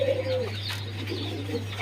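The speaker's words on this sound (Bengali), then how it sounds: "খুব সুন্দর কোয়ালিটিফুল একজোড়া কবুতর" A pair of pigeons giving soft, rounded coos close by, a few short calls in quick succession over a steady low hum.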